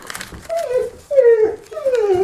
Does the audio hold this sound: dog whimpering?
yes